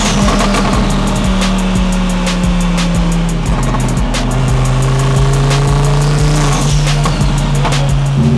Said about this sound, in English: first drive in the Audi R8 Spyder twin turbo